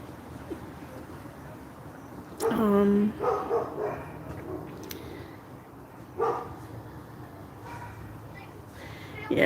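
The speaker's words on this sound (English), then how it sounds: "Some puppy doesn't like cars driving down the street." Puppy barking at cars passing on a street, a sharp burst of yaps followed by a few quieter barks later, with a person talking nearby.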